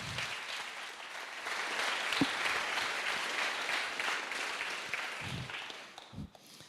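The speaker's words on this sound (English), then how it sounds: "So please, huge applause to all of them." An audience at a startup innovation opening ceremony applauds, a dense wash of clapping from many hands that swells, holds for several seconds and then tapers off into a few scattered claps.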